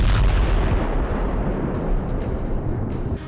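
Artillery strikes and explosions during the war in Ukraine: a deep, booming blast opens, followed by a rumbling, crackling roll that slowly fades, with further dull thuds behind it.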